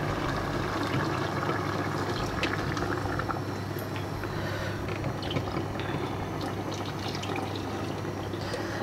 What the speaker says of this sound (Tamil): 3-4 கப் தண்ணி விடலாம்.